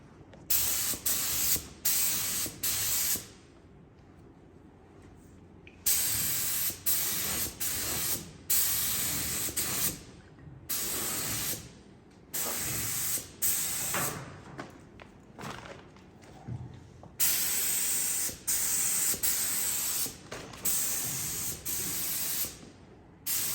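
Spray gun painting the firewall of a 1955 Chevy, with repeated close bursts of loud hissing spray separated by short quiet gaps, some spray passes long and steady, others quick.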